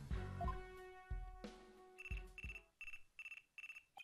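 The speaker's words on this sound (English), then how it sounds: "Looks like I have a phone call." A phone rings in the Ace Attorney Dual Destinies video game, a run of short repeated electronic trill bursts after some musical tones, heard alone without voices.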